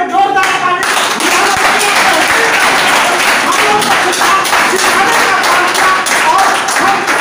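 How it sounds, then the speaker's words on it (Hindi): Loud, vigorous clapping from attendees at a business meeting, close and sustained for several seconds, with voices heard through it. "हम चाहेंगे सभी लोग एक बार सर के लिए जोरदार ताली"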